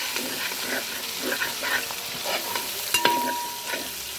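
Small onions hiss and sizzle in hot oil as they go into the pan, a loud, steady frying crackle with stirring scrapes and a sharp clink of utensil on pan partway through.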